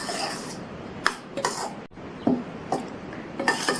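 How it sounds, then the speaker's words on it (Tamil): Scraping and rubbing strokes of a spoon against a bowl as roasted lentils are mixed into wheat flour puttu, several short, irregular bursts close up, with brief quiet gaps between them. "இதை புட்டில் சேர்த்துடலாம். புட்டில் சேர்த்துட்டு நல்லா ஒன்றா மிக்ஸ் பண்ணி விட்டுடலாம்."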